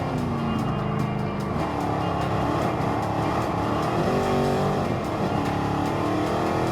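A racing car in Gran Turismo Sport at a nostalgic car festival event drones with a steady, loud engine note that rises and shifts in pitch through gear changes, heard up close and alone.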